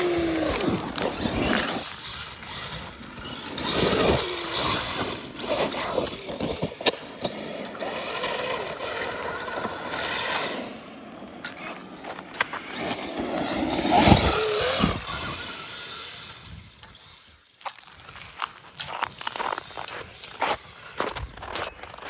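A Traxxas Maxx 4S 1/10 scale RC truck plows through snow outdoors, its electric motor whining and rising in loud surges with crunching bursts and brief pauses as it drives and catches.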